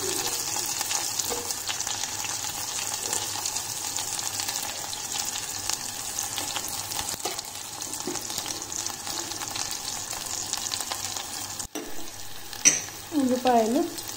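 Onions and curry leaves fry in hot oil with a steady close sizzle and occasional stirring scrapes, and a brief voice is heard near the end.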